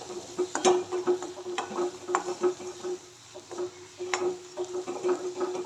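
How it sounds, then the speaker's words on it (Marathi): Coconut masala paste being stirred and sautéed in oil in a pan for a drumstick curry. Irregular scraping and clinks of the spoon sound over a faint sizzle, close by with no speech. "व्यवस्थित मसाले मिक्स करायचे आणि एक मिनिटभर तेलावर परतून घ्यायचे"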